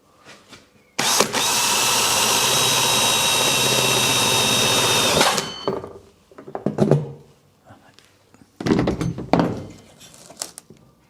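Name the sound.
power drill drilling a hole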